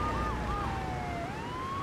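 A wailing police siren from the GTA III Definitive Edition video game, its pitch sweeping up and down over a constant engine rumble, loud and close with no talking.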